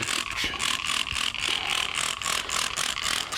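A hand trigger spray bottle squirts engine bay cleaner in rapid repeated bursts, a loud close hissing spray pulsing about every quarter second with a mechanical click on each pull.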